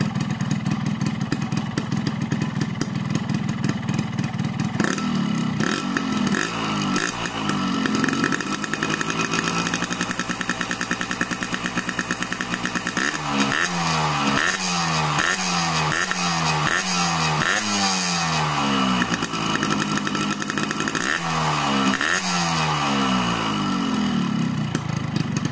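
A Husqvarna two-stroke motorcycle engine, still cold, idles, then revs repeatedly in sharp bursts with rising and falling whine, loud and close throughout.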